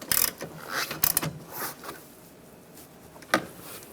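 A nut being started and snugged down by hand on a VW Beetle windshield wiper motor: a few short, close ratcheting clicks and scraping metallic bursts separated by quieter pauses, faint and without talk.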